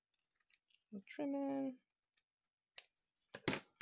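Scissors trim paper for a mini accordion journal craft, giving a few short, close snips after a brief stretch of a woman's speech, with quiet handling sounds between.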